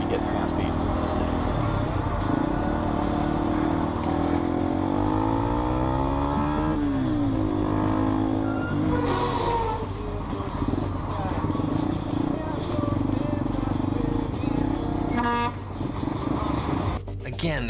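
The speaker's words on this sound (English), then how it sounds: "The motorcyclist speeds away, but the man in the car follows." A car chases a speeding motorcycle on a freeway, engines revving and roaring with sweeping pitch changes, brief horn toots and a rumble, while a voice talks over much of it.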